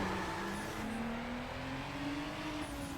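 A video-game car engine in Need For Speed Underground strains at high revs, its droning tone climbing slowly and steadily as if over-revved. The steady roar carries on alone for a few seconds, with a faint tire squeal.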